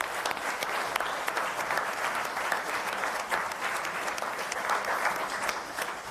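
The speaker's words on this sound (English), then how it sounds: "And I'd like to give them a round of applause too." Sustained applause from an audience at an annual public meeting, a dense, even clapping that holds steady at moderate loudness throughout with no talk over it.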